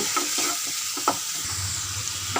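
Ground cumin and chili powder sautéed in oil in a pan for a cauliflower and yogurt parshe fish curry, with a steady close sizzle broken by several sharp spoon scrapes and stirs.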